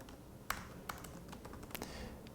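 Light typing of a short word on a computer keyboard, a few quiet, separate key taps spaced irregularly over a soft room hiss.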